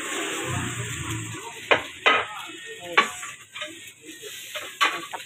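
Mie goreng with meatballs and scrambled egg stir-fried in a pan, a steady sizzle close up broken by several sharp scrapes and clanks of a utensil stirring against the metal.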